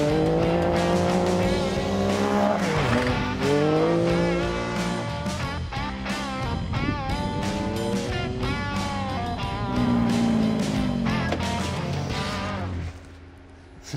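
A VW Beetle Baja Bug with Can-Am power races around a track, its engine revving hard and rising and falling through gear changes with occasional tire noise, loud and close throughout before cutting off at the end.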